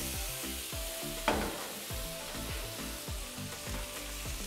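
Ribeye steaks sear on a Pit Boss flat top grill, giving a steady, close sizzle with one sharp crackling burst, under background music with bass notes.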